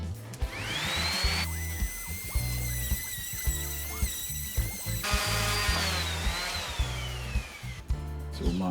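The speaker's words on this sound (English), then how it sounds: "I'll just sand that down so it's nice and smooth and even." A power sander runs steadily against a wooden table being upcycled, a continuous whining buzz with pitch shifts and brief dips as it moves over the surface.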